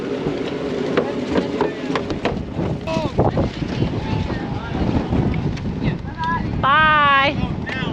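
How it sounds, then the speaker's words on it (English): Strong wind buffets the microphone aboard a yacht, a rough gusting roar under people talking nearby. "Wind is ripping."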